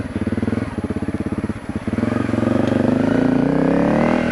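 A Honda CRF250L motorcycle on Shinko 700 tires rides on pavement. Its single-cylinder engine gives a loud, close, pulsing drone that briefly drops off, then rises and builds steadily as the bike accelerates.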